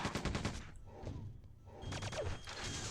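Rapid energy-weapon fire from a hyperblaster guard in the Quake 2 remake, a fast repeating burst up front, then further bursts amid game noise; loud and continuous across the moment.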